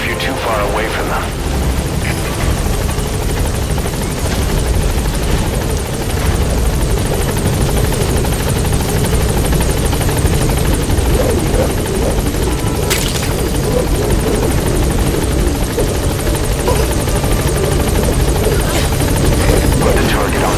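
A helicopter hovers loudly overhead in a Metal Gear video game with a steady thudding rotor drone, with voices speaking over the engine noise.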